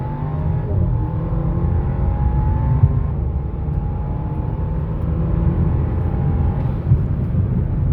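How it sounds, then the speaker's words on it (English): Tuned 2017 Audi A4 B9 with a stage 1 tune accelerating hard, its engine note climbing and dropping as paddle upshifts land, a steady loud rumble throughout with no talking. "I was upshifting with the paddles because I just didn't want to redline it fully"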